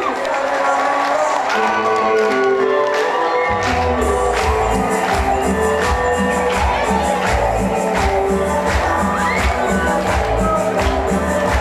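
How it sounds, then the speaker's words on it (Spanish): A live stage-show crowd cheers and applauds loudly to welcome performer Luciano Moscón, with steady dense clapping and shouts that swell a few seconds in, under a booming musical backdrop. "A Luciano Moscón con un fuerte aplauso."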